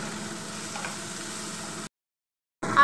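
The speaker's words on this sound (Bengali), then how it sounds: "একটু লাল লাল করে ভেজে নিতে হবে।" Potato pieces with salt and turmeric fry in oil in a pan, giving a steady, moderate sizzle that runs evenly, then drops to a brief silence before sound resumes.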